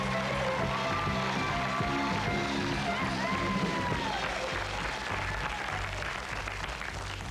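Audience applause fills a live concert, with steady, dense clapping from a crowd holding for several seconds, some voices mixed in and the level staying even throughout.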